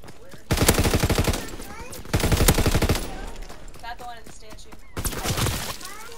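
Rapid machine-gun bursts from a strafing run in the World War II shooter Call of Duty: WWII, with three loud, fast-rattling volleys separated by gaps and voices talking between them.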